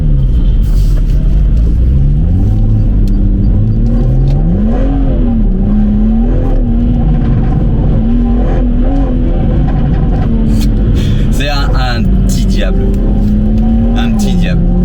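BMW M140i engine revving and pulling hard under acceleration, a loud, close rumble with rising and falling pitch and a couple of sharp pops near the end, while someone talks over it.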